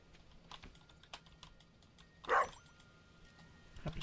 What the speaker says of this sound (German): Hund, ich höre dich zwar, aber ich sehe dich nicht.